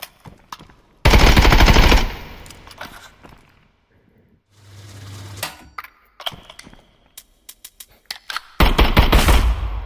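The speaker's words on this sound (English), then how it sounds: "Let's do a couple more tests, a couple more full auto shots on these guys." Full-auto 5.56x45 rifle fire in the video game Contractors Showdown, with loud sustained bursts, short single shots and mechanical weapon-handling clicks in between.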